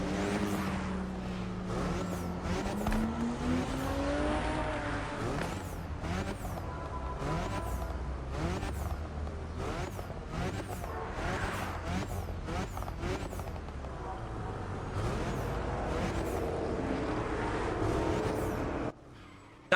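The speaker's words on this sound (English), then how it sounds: "let's do a quick rev check real quick" A Volkswagen Golf GTI engine in the video game The Crew Motorfest revs repeatedly in sharp bursts, rising and falling steadily over a continuous engine drone, with synthetic game-like quality.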